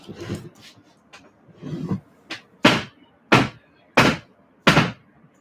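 A soap mold is banged down repeatedly on a hard surface, giving a series of about eight dull, close thumps. They start softer and irregular, then grow into louder, evenly spaced knocks.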